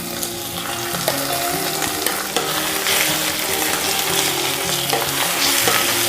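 Gongura leaves fried in a pan with oil and a pinch of asafoetida, sizzling loudly and steadily up close, with occasional stirring clinks and crackles.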